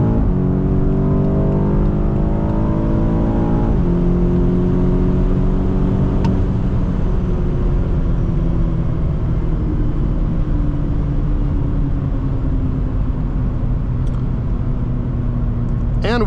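A 2018 BMW X5M accelerates hard from a full stop, its engine roaring loudly. The pitch climbs rapidly through several gear shifts and then settles into a sustained high-speed drone with wind and road noise, heard from inside the cabin.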